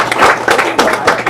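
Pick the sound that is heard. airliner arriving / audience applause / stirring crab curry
audience applause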